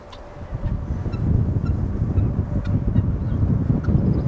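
Geese honk as a flock outdoors, a busy overlapping chorus of calls mixed with wind rumble against the microphone, fairly close and continuous.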